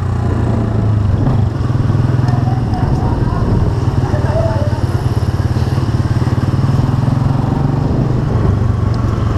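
A Yamaha Fazer 250 motorcycle engine drones steadily and loudly while riding, a constant low rumble throughout, with a voice talking over it.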